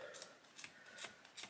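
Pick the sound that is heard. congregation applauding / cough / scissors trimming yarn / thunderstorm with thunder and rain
scissors trimming yarn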